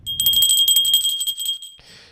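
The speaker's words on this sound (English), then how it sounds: "we ring a bell for every new donor that donates to us" A small hand bell rung repeatedly in a quick bright jingling run for about a second and a half, close and clear, at a radio station pledge drive, ending with a brief softer rustle.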